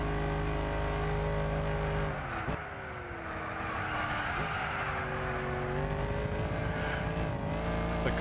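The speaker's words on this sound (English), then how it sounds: "The car almost spun out of control there." A race car engine in the video game Gran Turismo 6 drones at steady high revs, with a sudden dip and gear change midway, then climbs and holds again, accompanied by faint tire squeal.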